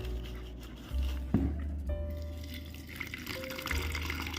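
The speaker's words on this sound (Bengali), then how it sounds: "আজকে একটু চিড়ে ভিজিয়ে রাখছি" Water is poured from a tap into a bowl to soak flattened rice (chira), a steady splashing flow with a brief sharper splash midway and a faint hum underneath.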